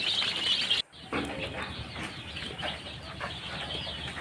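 Broiler chicks in a brooder give a dense, continuous chorus of shrill peeps and chirps. The sound is close and steady, with a brief dropout near the start, and no one speaks.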